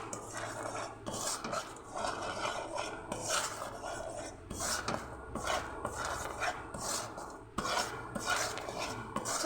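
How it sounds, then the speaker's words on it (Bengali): Spoon scraping and stirring milk in a metal pot while making sweet yogurt at home, a steady run of rhythmic scrapes and clinks close up with no voices. "তো ভালোভাবে নাড়িয়ে চাড়িয়ে নেব।"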